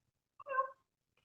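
A pet cat gives one short, clear meow up close, with a tiny chirp just before it and quiet around it.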